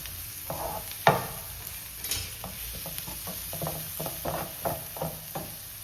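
Onion and tomato fry in a pan on high flame under a soft sizzle, with a spoon scraping and stirring in a rhythmic series of close knocks.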